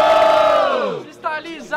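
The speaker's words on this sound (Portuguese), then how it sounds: "Quem gostou das rimas do Zack faz muito barulho." Rap battle audience at a student freestyle event roars loudly, a sustained wall of shouting that swells and then tails off, followed by a couple of brief bursts of voices.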